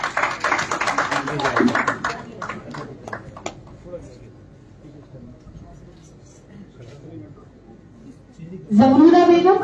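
An audience at an inauguration event applauds beneficiaries, a short burst of clapping mixed with talking at the start that fades out, followed by loud speech near the end.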